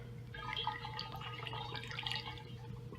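Water poured to rinse hard apple cider into a funnel during homebrewing, a faint, steady trickle and splash lasting a few seconds.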